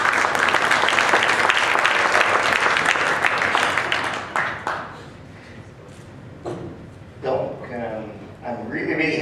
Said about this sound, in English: please let's all give him a round of applause